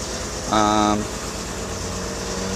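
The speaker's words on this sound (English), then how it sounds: "my car's a little louder because I have an exhaust leak" A 1997 Toyota 4Runner 3.4L six-cylinder engine with an exhaust leak runs at a steady, rough idle, with a brief tonal whine standing out midway and a person speaking over part of it.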